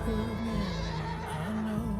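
A racehorse whinnies loudly and close up, a long wavering neigh that rises and falls over a couple of seconds.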